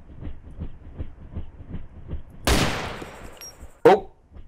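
Gunfire in the Arma 2 DayZ Overpoch mod: a run of rapid, evenly spaced muffled shots, then a loud sharp report that rings out and decays, followed by a final close crack.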